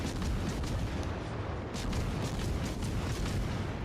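Heavy naval gun salvos from battleships in World of Warships Legends rumble as dense, booming blasts and rolling explosions, loud and continuous with brief sharper cracks layered in.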